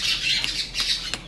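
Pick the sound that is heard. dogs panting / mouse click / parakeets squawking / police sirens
parakeets squawking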